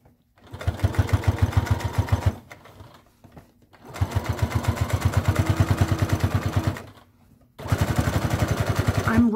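A sewing machine top-stitches around a fabric circle pouch with its lining, running loud and close in three steady bursts of rapid needle chatter separated by short pauses.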